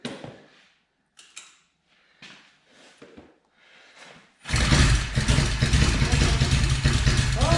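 Old Norton motorcycle engine firing up after almost 30 years of sitting, bursting into a loud, steady running roar after a few seconds of quieter shuffling and talk, then holding close and strong to the end.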